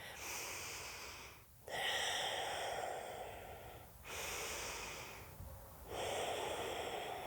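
Slow, audible breaths in a vinyasa flow yoga class while holding a crescent lunge, three long airy inhale-exhale cycles with brief pauses, close and steady, no talking.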